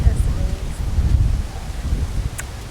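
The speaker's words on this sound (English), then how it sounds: "The wind is embracing." Wind blows outdoors during a photo shoot, a low buffeting rumble against the microphone that swells and fades for a few seconds, close and fairly loud.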